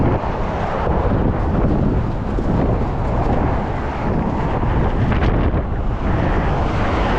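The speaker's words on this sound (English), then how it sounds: "it's very windy here" Strong wind roars across the Golden Gate Bridge in San Francisco, a constant loud broadband rush buffeting the microphone for several seconds with no letup.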